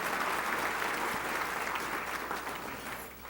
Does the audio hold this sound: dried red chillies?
no